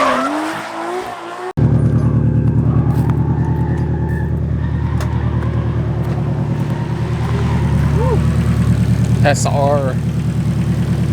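An 800hp Nissan S13 engine runs at a steady, loud idle with a rough, slightly knocky pulse, nearby and continuous, while people talk briefly over it.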